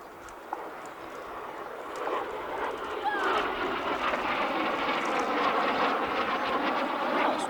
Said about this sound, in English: Provost T.3 running in now from the right.